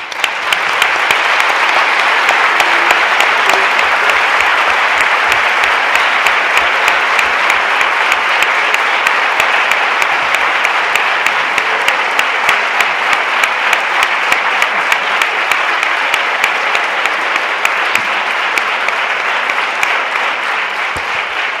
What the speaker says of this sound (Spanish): este magnífico aplauso